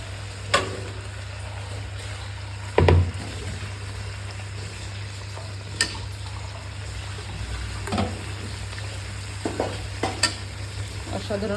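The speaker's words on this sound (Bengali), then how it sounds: "তো প্রথমে দিয়ে দিচ্ছি এই যে ভাজা সবজিগুলো।" Fried vegetables being stirred into biryani gravy, with a steady low sizzle and a few sharp scraping clinks of the spoon against the pot at intervals; no talking.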